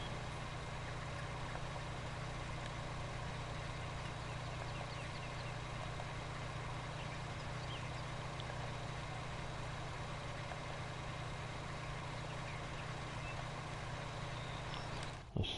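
A truck engine idling in a farming video game, a steady low hum with a constant tonal drone that stays even throughout, then a brief click at the very end.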